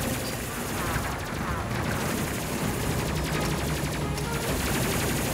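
Triple plasma turrets firing in the game Space Crew, a dense, loud, continuous barrage of rapid pulsing shots layered with other battle noise, sustained without a break.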